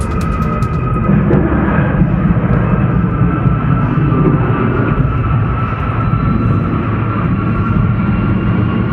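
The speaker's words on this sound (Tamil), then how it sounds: "நாசாவின் WB-57 ரக ஆராய்ச்சி விமானம் தரையிறங்கும் போது அதன் சக்கரங்கள் வெளியே வரவில்லை" A NASA WB-57 research aircraft, coming in to land with its landing gear not lowered, gives off a loud, steady engine roar that holds close and constant from start to finish.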